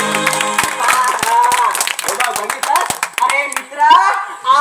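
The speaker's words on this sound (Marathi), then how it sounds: "त्यांनी आपल्या मानाई देवीसाठी एकदा जोरदार टाळ्या वाजवायच्या" Audience at a bharud folk performance clapping hard in a burst of sharp, rapid claps, mixed with voices talking and calling out over them.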